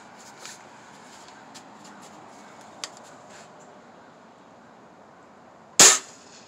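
Swiss Arms TG-1 air rifle shooting a 4.5 mm pellet at a target: one sharp, loud, close report after several seconds of near-quiet with faint ticks.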